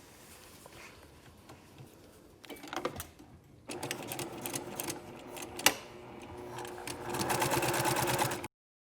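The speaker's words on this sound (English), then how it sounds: "we're just going to go at 1/2 inch seam allowance, back stitching both ends of our seam" Sewing machine stitching a shirt side seam at half-inch allowance, a close rapid mechanical whirr that starts in short bursts for backstitching, pauses, then runs steadily and ends abruptly.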